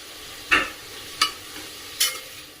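Chopped tomato and onion, with grated fresh coconut, being stirred in a pan, giving three separate scraping spoon strokes over a faint steady sizzle.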